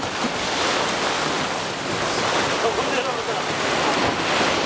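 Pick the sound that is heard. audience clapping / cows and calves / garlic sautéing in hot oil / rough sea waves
rough sea waves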